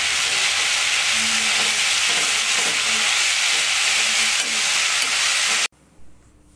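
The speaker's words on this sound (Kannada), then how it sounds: "ಈ ಪಾಲಕ್ಕನ್ನು ಚೆನ್ನಾಗಿ ಹುರ್ಕೋಬೇಕು." Spinach frying in oil and being stirred: a loud, steady, close hiss of sizzling that cuts off abruptly near the end, followed by a faint knock.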